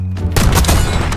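Sniper rifle fire in Call of Duty: Black Ops 6 cracks loudly with a booming report and rolling echo, a dense burst of game gunfire and impacts dominating the whole moment, with no talk.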